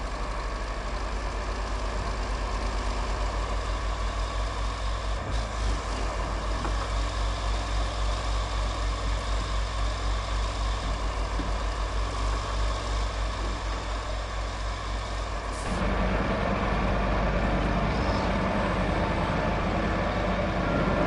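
A truck engine in the video game Roadcraft runs steadily from the cab interior, a loud low droning rumble that holds throughout, shifting to a heavier, deeper tone near the end.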